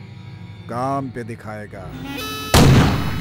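A sudden loud gunshot-like blast, a firecracker planted in a car in a dubbed South Indian action film, bursts out right after a man's speech and rings on with a broad noisy tail.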